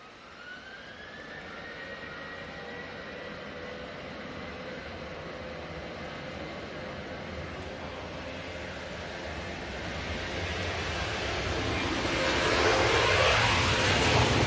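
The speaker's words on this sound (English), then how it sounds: "And here we go, this 737-800." A Boeing 737-800 airliner heard as a long, steady jet rumble with a faint whine rising early on, the roar slowly building and getting closer toward the end, with no voices.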